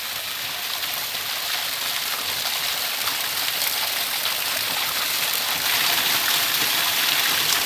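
Water pouring down steadily like a small waterfall near a hillside temple, a continuous rushing hiss with no pauses, close and fairly loud throughout.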